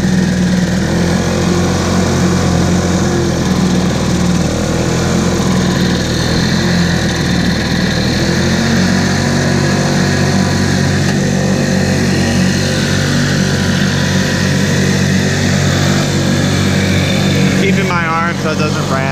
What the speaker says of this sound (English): I did all that to it, and let's see if it'll start now.